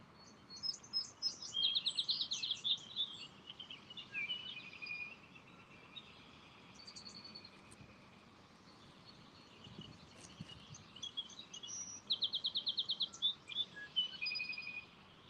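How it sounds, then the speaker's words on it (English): Several birds chirp and twitter by a river, bursts of high, rapid calls coming in clusters near the start and again toward the end, with quieter stretches between and faint background noise throughout. "now you can hear like all the other birds. They're like screaming in terror."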